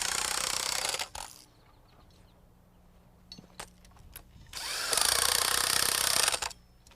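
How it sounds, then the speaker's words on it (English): An impact wrench drives nuts down onto bolts holding mud sills, two loud rattling bursts split by a quieter stretch with light clicks and handling noises. "I like to tighten them down with an impact wrench"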